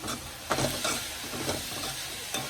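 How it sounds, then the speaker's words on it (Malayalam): Five chopped green chillies sizzle in a frying pan for a rajma dal curry, a close, even hiss broken by a few soft stirring scrapes. "അഞ്ച് പച്ചമുളക് അരിഞ്ഞത് ഇട്ട് കൊടുക്കാം"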